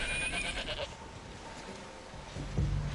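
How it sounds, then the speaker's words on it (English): Feral goats on an island beach bleat a few times, faint and a little distant against wind and surf noise. "I've spotted at least 7 feral goats"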